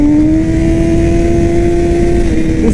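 A race-prepped Yamaha R6 sport motorcycle engine holds a steady, loud high rev for a few seconds, with a strong sustained whine that drifts slightly upward.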